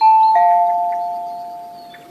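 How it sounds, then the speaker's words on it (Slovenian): A two-tone electronic doorbell chime rings once, clear and close, its notes fading slowly into silence. "Zdaj Egonu zvonim."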